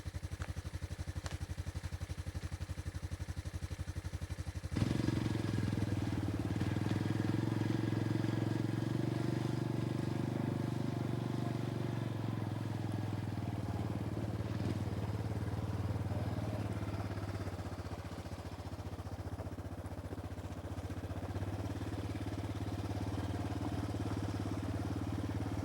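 A 1985 Yamaha Tri Moto three-wheeler engine steps up into a loud, steady drone as it climbs a hill, holding a strong mid-pitched hum with light clatter for over twenty seconds after a quieter idle start.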